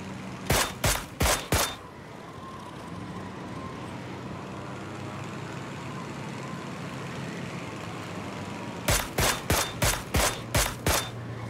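G36C rifle fire in PUBG, two quick bursts of about four and seven sharp shots, loud and close, separated by a long stretch of steady engine-like drone from a glider.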